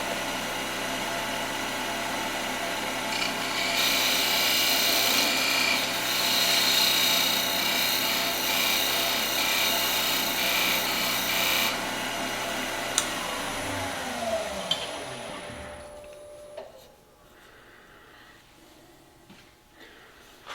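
A wood lathe spins a turning that will become an A10 Warthog 30mm round while the tool flattens the bottom of a groove, giving a steady loud whirring hum with bright hiss that winds down and fades near the end.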